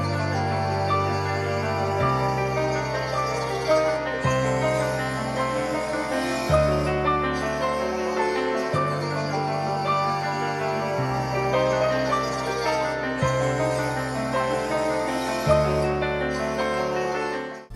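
Finished melodic music sample run through a mastering chain, pitched up and given a vintage EQ tone: a dense, continuous bed of layered chords over a bass line that changes roughly every two seconds, played loud and steady.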